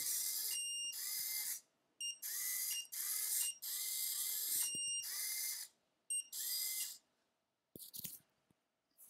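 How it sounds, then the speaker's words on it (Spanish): A mini-sumo robot with an ultrasonic sensor gives loud, shrill electronic beeps in repeated long bursts separated by short gaps, ending in a few brief clicks. "Luego podemos quitar el pitido este."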